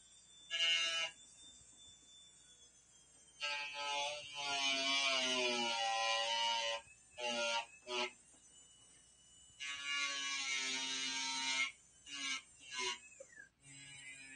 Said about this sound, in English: we use a 90-degree heart burr and just cut in on the surface of the metal